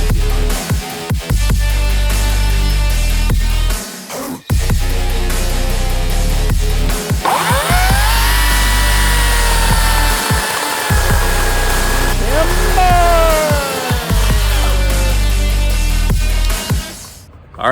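A Green Machine battery-powered chainsaw runs loudly and steadily, its whining motor rising and dipping as the chain bites into material, with brief pauses between cuts.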